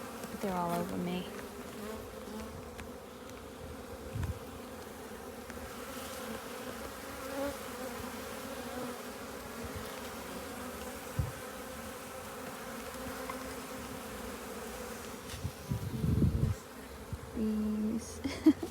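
Honeybees buzz steadily around an open hive at close range, a continuous droning hum with individual bees swelling louder as they pass near, under occasional handling noises.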